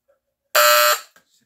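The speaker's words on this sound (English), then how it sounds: "I want to hear this ooga horn." Electric ooga horn plugged in and sounding once, a loud, harsh, buzzing blast lasting under half a second before cutting off abruptly.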